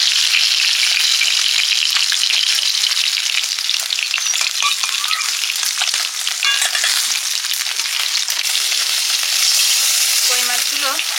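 Koi fish frying in mustard oil: a dense, steady sizzle and crackle of hot oil that runs without a break for the whole stretch, loud and close, with a few faint clinks of utensils near the end.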